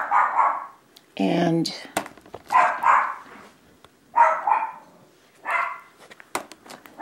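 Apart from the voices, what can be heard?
dog barking at passing dogs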